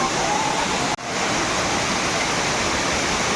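Savatkada waterfall in Konkan roars in full monsoon flow: a dense, constant rush of falling water, loud and unbroken apart from a split-second dip early on.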